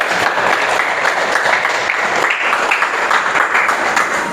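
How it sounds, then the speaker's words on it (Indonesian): Students in a classroom clap together, a dense, steady patter of hands that holds evenly from start to finish. "Oke, silakan tepuk tangan."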